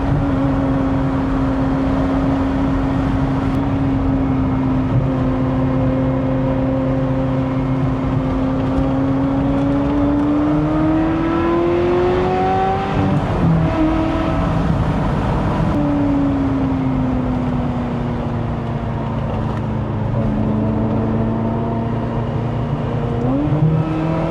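A Ferrari 355 engine runs steadily with a smooth, rich harmonic drone, pitch rising and falling gently as revs change, loud and close throughout.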